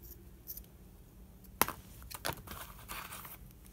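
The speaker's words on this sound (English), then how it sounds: "I'm going to cut some of that off" Scissors snip excess nylon thread during a craft session making nylon butterflies and flowers, giving one sharp close cut followed by a softer second snip amid faint handling rustle.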